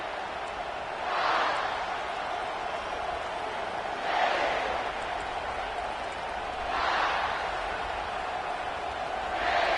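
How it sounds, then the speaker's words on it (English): A loud college football stadium crowd at SC vs. Michigan roars in a steady wash of noise that swells in waves every few seconds, with a commentator's voice running underneath. "This crowd bringing an ear-splitting welcome to their visitors."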